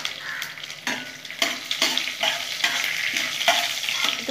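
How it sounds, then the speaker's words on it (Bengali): Panch phoron five-spice and dried red chillies frying in hot oil, a close steady sizzle broken by repeated scraping stirs of a spoon against the pan. "এই তেলে আমি 5 ফোড়ন দিয়ে নেব। শুকনো লঙ্কা ফাটিয়ে দিয়ে দেবো।"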